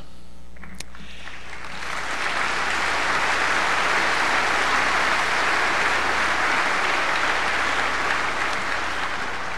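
Audience applause after a brass band concert swells in after a brief quiet moment into sustained, dense clapping from a large crowd that continues steadily without letting up.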